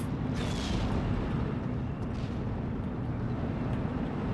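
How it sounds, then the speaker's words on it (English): Artillery fire in Steel Division 2: a dull, distant boom rolls under a constant low battlefield rumble, with a faint higher whine early on. "An artillery fire over here."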